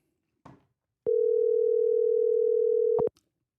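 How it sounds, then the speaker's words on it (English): A steady single-pitch telephone tone follows a click after a call is hung up, lasting about two seconds before cutting off with another click. "he picked up the telephone and then hung up the phone"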